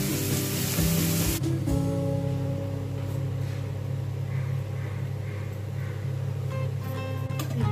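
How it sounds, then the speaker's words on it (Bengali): Broccoli fries in oil in a wok with a steady sizzle and hiss after a sudden splash-like onset, continuing evenly and close by with no talking. "তারপর ব্রোকলিগুলো ঢেলে দিলাম।"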